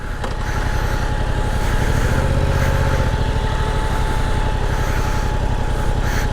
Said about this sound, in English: God, you can hear those fans now that have come on.